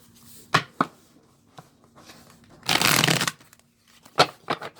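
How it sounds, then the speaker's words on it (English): Tarot cards are shuffled and riffled by hand, with a few short crisp slaps and then one dense burst of fluttering card noise, close and fairly quiet, with no voices. "And get them mixed up before shuffling them also and getting them even more mixed up."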